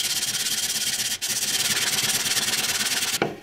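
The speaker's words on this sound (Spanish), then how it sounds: "Lo que vamos a hacer es lijarlo un poquito." Sandpaper rubs a wooden coat hanger piece for a floating wall rack in steady, rhythmic back-and-forth strokes, close and loud, with a brief pause partway and a light knock at the end.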